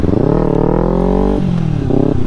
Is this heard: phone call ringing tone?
no